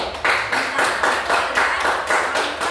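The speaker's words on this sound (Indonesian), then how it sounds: "Tepuk tangan dulu untuk Misin." A small group claps for a child in a steady rhythmic pattern, about six even bursts of hands clapping in unison at a regular beat, fairly close and clear.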